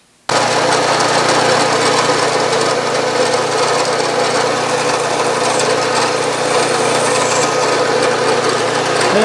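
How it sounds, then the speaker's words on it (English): A combination starter drill boring into metal for a steam engine part, a loud, steady grinding whir that starts abruptly after a brief silence and continues evenly to the end, with no talk. "put a combination starter drill in there, and give it a go."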